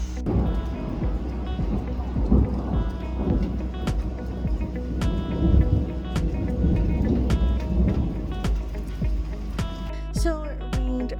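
Steady outdoor rain hisses through a morning thunderstorm, with a low rumble of thunder underneath and scattered sharp drip-like ticks throughout.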